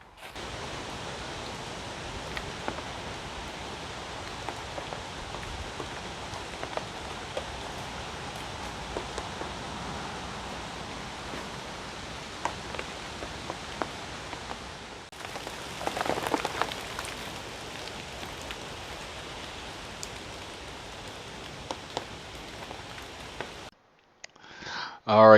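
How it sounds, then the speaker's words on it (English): Rain falling outdoors on a woodworking site where black walnut is being slabbed, a steady close hiss of drops on surfaces with scattered louder taps, briefly swelling midway before cutting off. "that's rain. It's already here."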